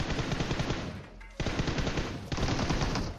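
Rapid automatic gunfire in a battle-royale shooter game, fired in three dense sustained bursts separated by brief pauses, loud and close with no talking.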